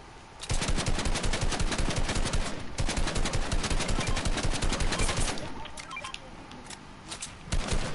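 Sniper fire and heavy gunfire crackle in a video game as a loud, near-continuous barrage. It pauses briefly, then eases into quieter scattered shots before one final burst.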